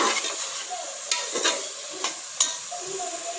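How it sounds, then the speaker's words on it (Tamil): Carrots and beans are stirred in a pan for veg pulao, with a soft background sizzle and four distinct scraping strokes of the spatula against the pan, close by and without talk. "இப்போது இதை நல்லா கலந்து விட்டு மிக்ஸ் பண்ணி விட்டுக்கோங்க."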